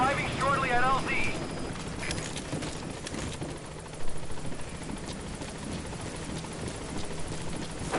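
A helicopter approaches a landing zone in the video game Metal Gear Solid V, its steady rotor drone running throughout, with a radio voice speaking over it at the start.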